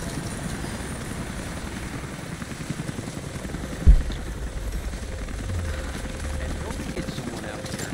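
A helicopter in Rise of the Tomb Raider drones steadily through the whole stretch, a continuous rotor and engine rumble with a brief thump in the middle.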